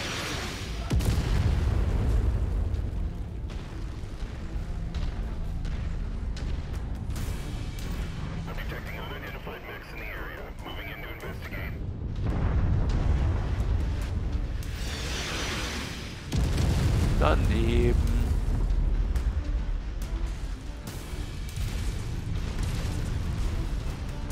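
Artillery in a Mechwarrior 5 co-op mission, deep rumbling booms and blasts rolling over a constant low battle din, with people talking over it.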